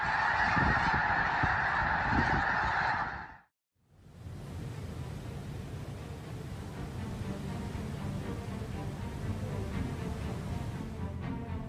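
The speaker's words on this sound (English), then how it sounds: "The Missouri sky lit up as thousands of snow geese took flight over the Loess Bluffs Wildlife Refuge." Thousands of snow geese lift off together over the Loess Bluffs Wildlife Refuge in Missouri, a dense wall of honking calls that cuts off, then gives way to a broad rushing roar of wings and distant birds.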